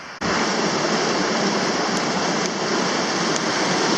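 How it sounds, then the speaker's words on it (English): Rushing stream water on a rainy hiking trail, a strong current pouring and churning close by in a loud, steady roar with no voices. "I think we're coming to a large stream where we have to ford across."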